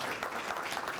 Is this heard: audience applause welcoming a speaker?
yes